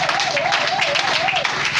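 A church congregation applauds the Lord with continuous, fairly loud clapping, while a voice with a wavering, sung tone carries over the top.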